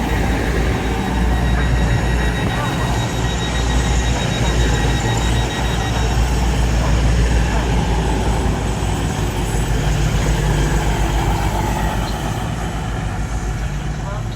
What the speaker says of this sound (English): arriving in platform 4 is going to be a Lumo West Coast Class 222, going from Stirling to London Euston